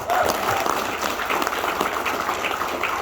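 Audience applause at an Indonesian business seminar, a steady wash of many hands clapping that fills the room for the full duration without a break.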